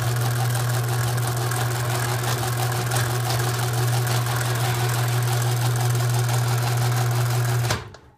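Overhead Door R80CZ garage door operator running with a wobbling pulley, a loud steady motor drone and strong low hum with a faint rhythmic rattle, cutting off abruptly near the end.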